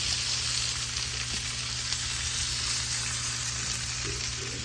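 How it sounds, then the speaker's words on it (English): Spanish mackerel fillets seasoned with lemon pepper, skins on, fry in hot oil with a dense, steady sizzle and crackle, loud and close throughout without talking. "And now we're gonna fry some lemon pepper. Lemon pepper fillets."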